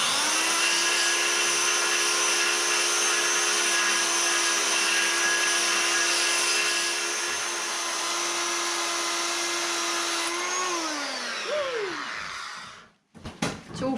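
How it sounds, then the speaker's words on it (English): Belt sander works Land Rover Lightweight body metal with a loud, steady high-pitched whine held for about eleven seconds, then winds down as the motor slows and stops, leaving brief clatter at the end. "My dad bought me this belt sander, and I've been wondering when I'm going to use it"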